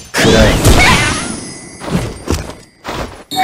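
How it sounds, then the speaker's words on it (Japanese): A big explosion effect from the Naruto Online game, a heavy booming blast that rings out over a second, followed by a few more sharp thuds and impacts, loud and close. "大爆発だぜ。"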